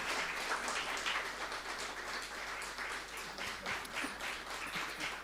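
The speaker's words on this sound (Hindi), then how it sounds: "ताली बजाओगे जोर से।" Audience applause at a felicitation and sharing event for education wing seniors at the Om Shanti Retreat Centre in Delhi-NCR, a sustained, moderately distant patter of many hands clapping for several seconds.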